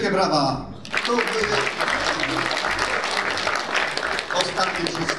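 As a song closes at a Silesian dialect contest for rural housewives' clubs, the audience bursts into broad, continuous applause that stays fairly loud, with voices briefly audible at the start.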